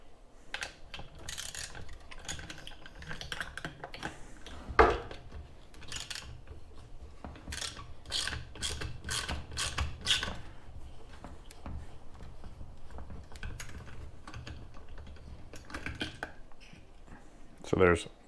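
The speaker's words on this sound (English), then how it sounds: "we have our 10 millimeter socket and ratchet, and we're going to" A 10 mm socket and ratchet removes carburetor nuts on a Homelite Bandit SX-135 chainsaw, making quiet, close ratcheting clicks and metallic taps in short runs, with a voice talking throughout.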